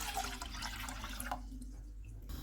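Water poured from a container into a cooking pan for a sabudana drink, a soft splashing trickle that stops partway through and leaves quiet room tone.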